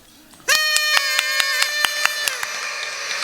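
A gala audience applauds while blowing table noisemakers, a loud sustained horn-like blare with rhythmic claps running through it for about two seconds, then fading.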